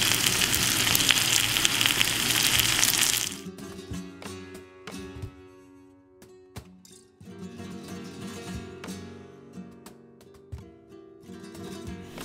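Huaraches de carne asada browning in a hot pan, with a loud, dense sizzle for the first few seconds that drops to a quieter frying crackle broken by sharp clanks and scrapes of a utensil against the pan.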